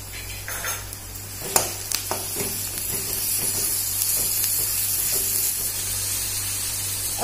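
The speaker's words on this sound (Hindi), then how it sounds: "प्याज हमारे थोड़े से भून गए हैं, अब हम इसमें अदरक लहसुन का पेस्ट डाल देते हैं।" Onion and ginger-garlic paste fry over high heat in a pan, making a steady close sizzle broken by scraping stirs and sharp clatters of the utensil.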